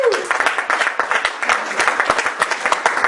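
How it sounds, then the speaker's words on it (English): An audience gives a round of applause at a training event, a dense burst of many hands clapping steadily for about three seconds, fairly loud and close. "Let's give him a hand clap for that."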